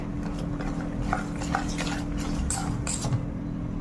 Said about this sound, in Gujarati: થોડીવાર આપણે એને વિપ્સ કરી લઈશું અને પાંચ મિનિટ સુધી સરસ તારને મિક્સ કરતા રહીશું